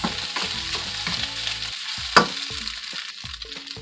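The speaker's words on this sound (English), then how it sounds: "let's stir the rice. Keep stirring until everything will be mixed" Egg fried rice stirred in a pan: soft frying sizzle with scraping, clattering stir strokes and one sharp utensil clack, under faint background music and no talk.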